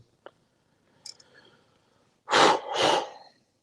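A couple of faint clicks, then one loud close sneeze that bursts out in two quick explosive parts before fading to silence.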